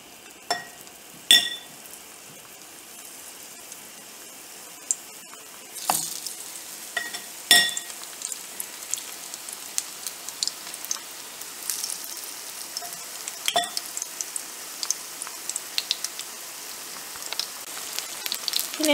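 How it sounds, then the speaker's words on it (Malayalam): Brinjal (eggplant) slices frying in hot oil for a simple Kerala vegetarian lunch, a dense steady sizzle and crackle with scattered louder pops and stirring clatters, close and continuous. "ഇതിപ്പോൾ ചൂടായിട്ടുണ്ട്. നമുക്ക് ബ്രിഞ്ചാൾ ഇട്ട് കൊടുക്കാം."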